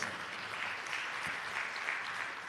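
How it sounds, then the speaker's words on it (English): An audience at a public-sector launch event gives the team a round of applause, a soft, distant wash of clapping that stays even throughout. "I think the team deserves a round of applause."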